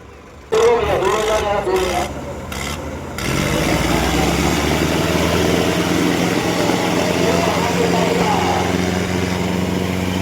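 Mahindra Yuvo and Preet tractors straining against each other in a tug-of-war contest, their engines droning loudly and steadily after a few short bursts at the start, amid an outdoor crowd.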